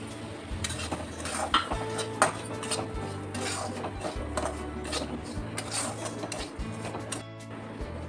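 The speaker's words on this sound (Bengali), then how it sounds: "তিন চামচ ঘি দিয়ে দিয়েছি এখন সুজিটাকে দিয়ে দিচ্ছি" A spoon scrapes and clinks against a pan as semolina is stirred and roasted in ghee for gujiya filling, with steady, fairly faint rhythmic scraping and metallic knocks throughout, no voices.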